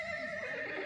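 A two-year-old Sindhi breed horse at a fair neighs in a short, loud, continuous whinny, close by with no talk over it.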